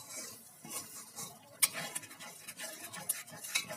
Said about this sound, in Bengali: দেখুন বন্ধুরা, এতে পরিমাণ মতো চিনি দিয়ে নাড়িয়ে একটু ফুটিয়ে নেব